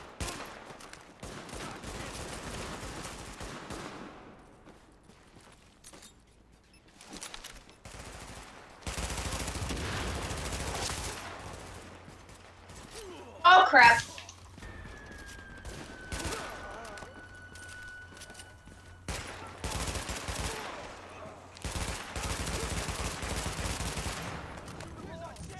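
Gunfire in The Division comes in scattered bursts between quieter stretches of game ambience, with a sharp close flurry midway and a sustained electronic tone after it.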